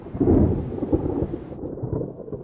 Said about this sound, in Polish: No właśnie, i do tego zbliża się burza.